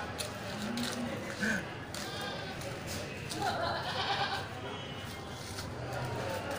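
Goats bleat in short, scattered calls amid the chatter of a busy livestock market, with several people talking over the animals throughout.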